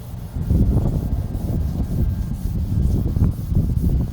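A scratch pad is scrubbed by hand across painted metal on a Jeep in steady back-and-forth strokes, a rough abrasive rubbing repeated quickly, close up and continuous for several seconds.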